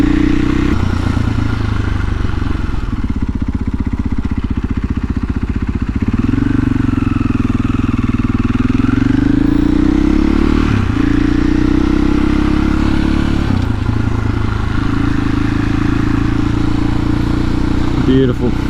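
A 2021 KTM EXC-F 500 supermoto rides over gravel on slippery tires, its single-cylinder engine droning loud and close with rising and falling revs and a clattering undertone.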